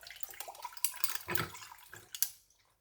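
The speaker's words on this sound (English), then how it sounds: "Pour it off." Beetroot juice being poured off, heard as a close splashing liquid pour in irregular gushes and trickles that taper off into quiet at the end.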